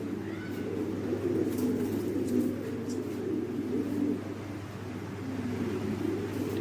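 Lahore pigeons coo softly in a low, steady murmur, several birds blending into a continuous rolling hum with no talk.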